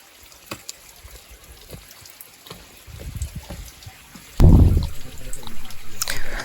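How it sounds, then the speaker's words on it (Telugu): Water trickling from a small hole in a tank on a hillside, a soft running flow with a louder gush partway through and people talking nearby. "ఈ తొట్టిని చిన్న హోల్ పెట్టి అక్కడ నీళ్ళు వస్తున్నాయి"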